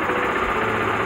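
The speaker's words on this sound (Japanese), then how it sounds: "ちょっとエンジンをかけてみましょう。" Yamaha YBR125G motorcycle engine idling steadily up close, a continuous low rumble with a faint mechanical chatter, loud and without speech.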